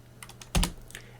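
Keys clack on a computer keyboard in a short close burst of separate taps, with one heavier double stroke in the middle, and no voices.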